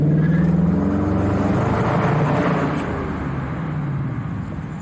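A 2017 Dodge Challenger with a 5.7 HEMI V8 pulls hard at full throttle, a loud, dense engine roar heard from on board that holds steady and then eases slightly toward the end.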